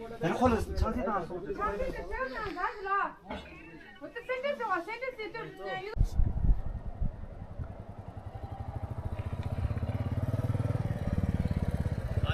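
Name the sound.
motorcycle riding on the world's highest bridge, Chicham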